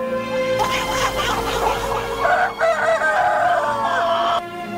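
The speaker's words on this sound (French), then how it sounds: "Là, c'est le coq gallois." A recording of a Welsh rooster plays a long, loud, close crow, strained and drawn out over several seconds, against a steady background drone.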